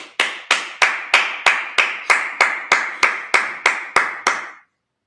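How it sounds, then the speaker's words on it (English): A congregation at a Sabbath service claps in unison: about thirteen sharp, evenly spaced claps in a steady rhythm, close and clear, followed by silence. "Clap it up."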